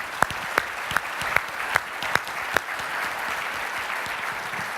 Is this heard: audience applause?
yes